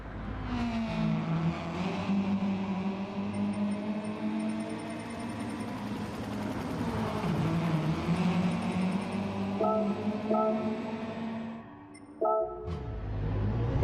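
A Subaru WRX race car engine in Gran Turismo 7 drones steadily at high revs for several seconds, then drops off; brief clicks and a short revving burst follow near the end.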